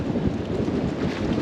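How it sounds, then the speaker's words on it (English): A steady breeze by Llyn Dinas buffets the microphone with a constant low rumble and rushing noise, loud and unbroken, with no voices. "This breeze has really come up quite quickly."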